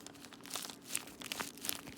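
A homemade paper squishy stuffed with plastic bag is squeezed, giving soft, irregular crinkling and crunching bursts, close and quiet, with no talking.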